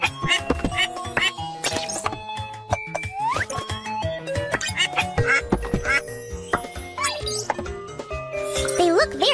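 A cartoon duck in a children's animal rescue game, its head stuck in a can, quacking in repeated bright squawks amid busy music and sound effects.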